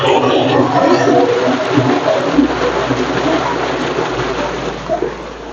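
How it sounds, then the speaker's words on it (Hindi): Tubewell in a garden pumping water, a loud steady rushing gush with a low constant drone beneath it, running continuously close by. "तो हमने आपकी ट्यूबवेल की आवाज सुनाई।"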